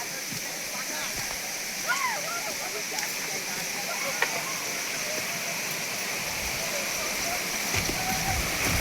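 Waterfall in Maharashtra, heard as a constant broad roar of falling water from some distance, with faint voices now and then over the rush.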